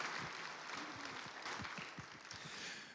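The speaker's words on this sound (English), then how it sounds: "give them a round of applause" Church congregation applauding during a Mother's Day service, a dense wash of many hands clapping steadily throughout, with some louder individual claps standing out close by.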